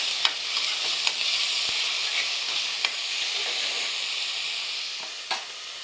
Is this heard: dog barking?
no